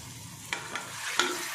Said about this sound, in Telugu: ఆనియన్స్ వేసుకొని ఫ్రై చేస్తున్నాను